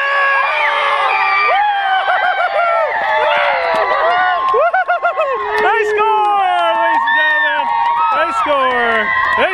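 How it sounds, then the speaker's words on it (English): Excited crowd at a youth sports game, with children and adults shouting, whooping and cheering loudly and continuously, dense overlapping voices filling the space throughout. "Yes, the crowd goes crazy."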